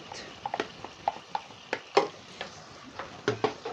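Diced onion stirred into browned meat in a pan gives close, irregular scrapes and clacks of a utensil over a soft frying hiss.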